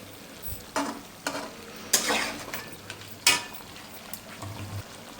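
Chicken cooks in a pot for biryani with a low, steady sizzle. Several sharp scraping stirs from a utensil against the pot rise above it, close but quiet.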